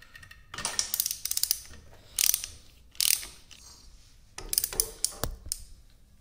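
A hand ratchet clicks in quick bursts while removing oil cooler parts from a Harley-Davidson, with close metallic pawl rattles, separated by short pauses and a sharp clink of metal near the end.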